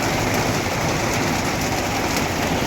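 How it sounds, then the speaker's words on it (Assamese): Rain falls steadily in a broad, continuous wash of sound, a constant rushing hiss with a low rumble beneath and no voices. "কেনেকুৱা বৰষুণ দিছে"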